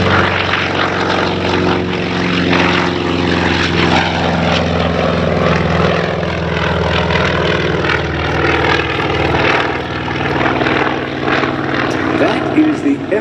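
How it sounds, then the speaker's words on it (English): A WWII Grumman FM-2 Wildcat propeller fighter with a huge radial engine flies past at an air show, its loud, throbbing drone sustained and close, while announcers talk over the engine noise. "Big brute of an airplane with a huge engine."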